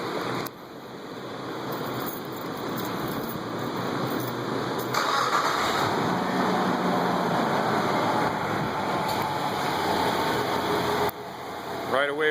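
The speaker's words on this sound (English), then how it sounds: "the engine is idling smooth" 1999 Nissan Pathfinder, newly fitted with a distributor and camshaft position sensor assembly, starting up and then idling in a steady hum, with a person talking nearby.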